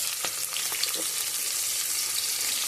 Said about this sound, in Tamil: இப்போ ஆனியன் சேர்த்துக்கிறேன்.